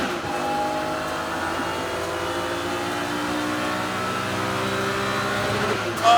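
BMW racing cars at Brands Hatch circuit in the Kumho BMW Championship accelerate after a safety car period, a steady layered engine drone at moderate distance, rising slightly as the field gets back on the throttle.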